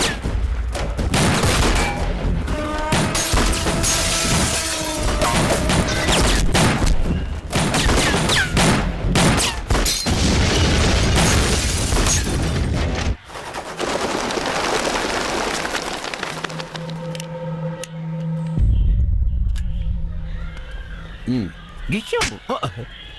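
Rapid bursts of gunfire in a South Indian film scene crack repeatedly, loud and close, while voices talk in between, then the shooting drops away to quieter sounds.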